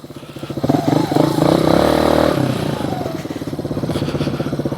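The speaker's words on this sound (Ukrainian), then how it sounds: "мотоцикл вкотре подолав такі ось у нас гірочки" A Skybike Liger 2 motorcycle climbs a hill, its engine droning loud and close with a strong rising pull, easing slightly, then holding a steady, chattering run.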